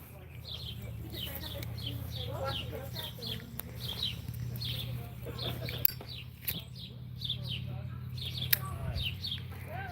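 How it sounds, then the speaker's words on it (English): Small birds chirp outdoors in quick, scattered bursts, with a low ambient hum beneath and a person talking at moments. "You hear the birds?"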